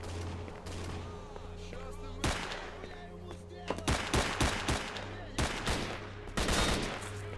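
Gunfire in S.T.A.L.K.E.R.: Shadow of Chernobyl: close, loud rifle shots cracking out in short bursts and single reports over a low humming game ambience.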